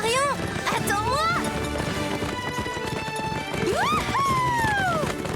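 Cartoon horses gallop with steady clip-clop hoofbeats, punctuated by shrill whinnies, while young voices call out and chatter over the running.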